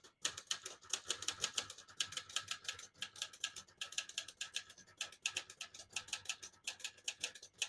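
Typing on a 1968 Olivetti Lettera 31 portable typewriter: fast, crisp key strikes clatter in rapid bursts with short pauses between them, close and dry, with no voices.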